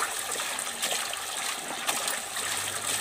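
Water runs steadily while greens (mudhi bhaji) are washed by hand, a constant splashing trickle with occasional sloshes, close and alone without talk.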